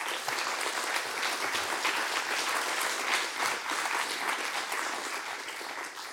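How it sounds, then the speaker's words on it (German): Dense, sustained studio audience applause on an Austrian TV quiz show, a steady wash of many hands clapping at an even level for about six seconds, tapering slightly at the end. "Applaus bitte."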